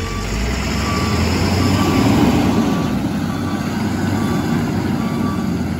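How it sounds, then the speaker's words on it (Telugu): An empty long-chassis 16-wheel Ashok Leyland lorry reversing on a ghat road turn, with a loud, steady low engine rumble and a faint repeating reversing beep. "ఇది ఎంటీ లారీ అయినా రివర్స్ కొట్టడానికి వెళ్తుంది."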